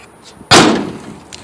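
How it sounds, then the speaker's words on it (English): A poorly aligned door on a 1961 Chevy Apache one-ton truck slams once, a sharp, loud metallic bang followed by a brief rattling decay, with quiet surroundings before and after. "The doors do need a bit of alignment. They don't fit that well, so they kind of sound like shit"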